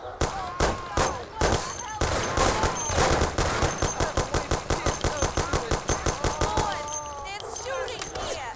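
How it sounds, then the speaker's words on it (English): Rapid automatic gunfire from a shootout in the video game Mafia rattles in a steady, dense burst of close shots lasting several seconds, with a few louder single cracks at the start and voices shouting underneath. "It's shooting here."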